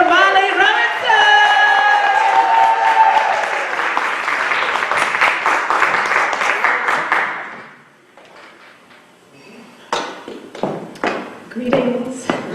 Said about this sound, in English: Y'all put your hands together, show all your love, start clapping right now